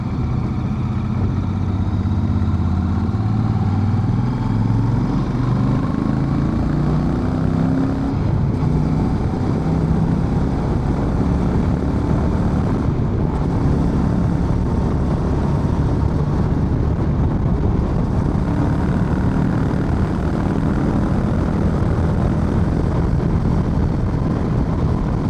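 Royal Enfield Super Meteor motorcycle cruising on an expressway at 110 km/h, a loud, steady low engine drone under heavy wind rush that stays constant throughout.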